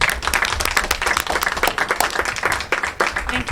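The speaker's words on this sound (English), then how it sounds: "Let's give Joanne a round of applause." Applause at a board of education meeting, a smaller group clapping with distinct, uneven individual claps, fairly close and lively, continuing throughout the short stretch.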